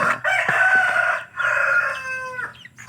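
Native chickens call loudly at close range while being fed organic feed, giving two long, drawn-out squawking bursts separated by a short pause, with no talk.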